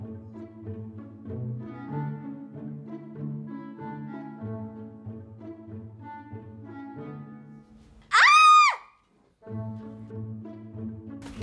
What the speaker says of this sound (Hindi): तो चिल्ला क्यों रही है?